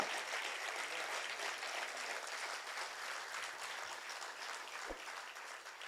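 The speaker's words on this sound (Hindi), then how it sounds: "सर्वाधिक तेज तालियां नहीं है ये, थोड़ा और तेज बढ़ाइए तालियां" A large audience applauds at a Hindi kavi sammelan poetry gathering, producing dense, sustained clapping at an even level for several seconds with no voices heard over it.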